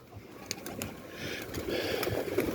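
A pigeon coos softly in low, murmuring phrases up above, mixed with faint rustling and background noise close by.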